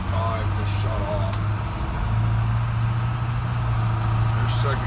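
A 2000 Bluebird school bus with a T-444E diesel and Allison 1000 transmission idles with a steady low rumble and hum, its fan not running, close and continuous throughout.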